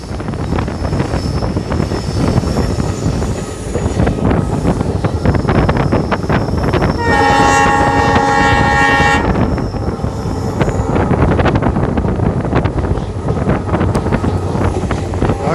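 An Indian Railways diesel locomotive train running at speed, with a roaring rumble of wheels and wind buffeting the microphone, and a long sustained horn blast in the middle before the rushing noise continues.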